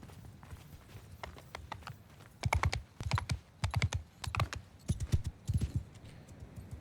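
Cavalry horses charge in a Mount & Blade II: Bannerlord battle, their hooves thudding in quick rhythmic bursts that grow louder and denser partway through, close and unaccompanied by talk.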